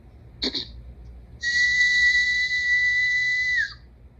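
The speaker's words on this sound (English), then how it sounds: "I can whistle without puckering my lips." A single sustained, steady whistle made without puckering the lips, held for about two seconds, clear and fairly loud, preceded by a brief short sound.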